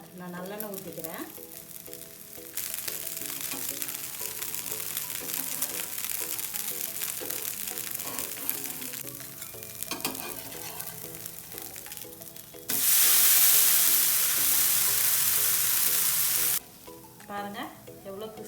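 Black rice dosa sizzles steadily in sesame oil on a hot pan, a continuous frying hiss with brief scraping, and a louder surge of sizzling partway through as a voice speaks over it.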